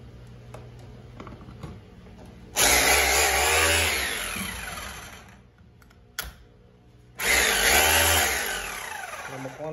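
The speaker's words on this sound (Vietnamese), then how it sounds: "là một con khoan bê tông" A used 220 V concrete rotary hammer drill, model 2-26, is run in two loud bursts of a few seconds each, close and harsh with a rising whine, separated by quiet clicking and handling.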